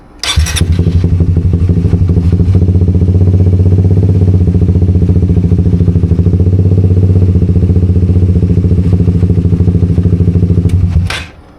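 A Suzuki GSX 150 motorcycle with a new RCB lithium-ion battery is started and runs for about ten seconds. Its engine holds a loud, steady, close idle that ends abruptly when it is cut off.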